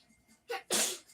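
A single close sneeze, a brief wet intake burst followed by a sharp explosive blast, heard alone against near silence.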